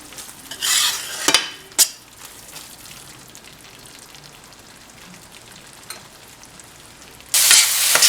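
A dry prawn and ridge gourd curry with curry leaves fries in a pan. Bursts of stirring and sizzling open the clip, a quieter crackle with a few clinks follows, and a loud sizzle returns at the end.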